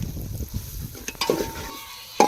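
Homemade curry masala powder being sautéed in a pan for a fish curry makes a soft, brief sizzle broken by a few sharp stirring clinks and scrapes of a spoon against the pan.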